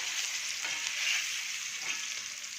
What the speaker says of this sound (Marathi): आता आपण दोन उलथण्याच्या साह्याने पलटी मारून घेणार आहोत